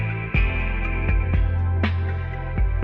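Lo-fi house groove run through a saturator and an auto filter with a resonance bump, giving a crunchy, crisp tone; steady thumping kicks and bass under sustained chords with periodic percussive hits, continuous and fairly loud.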